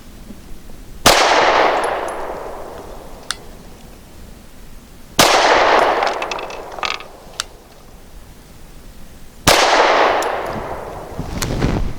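Three single pistol shots from a Canik TP9 Elite SC compact 9mm firing Winchester Super Clean rounds, spaced several seconds apart, each a sharp loud crack with a decaying outdoor echo and faint mechanical clicks between.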